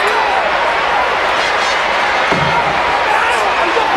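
A crowd roars and cheers in the WWE 2K14 wrestling video game, a loud, dense, continuous arena din with occasional thuds, with commentary voices mixed in.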